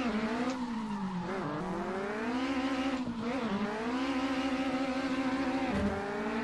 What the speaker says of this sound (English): Spin some donuts here in the pit lane.